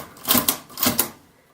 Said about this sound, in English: I've got this thing right here, which is a typewriter, a secondhand as well. And it still works.